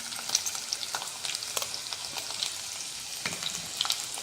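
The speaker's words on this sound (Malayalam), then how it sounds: "ഇനി നമുക്ക് വെളുത്തുള്ളി ഇഞ്ചിയും കൂടെ ഇട്ട് കൊടുക്കാം" Garlic cloves and a small piece of ginger fry in hot oil with a steady close crackling sizzle, broken by scattered sharp spatter pops and the light scrape of stirring, with no voices.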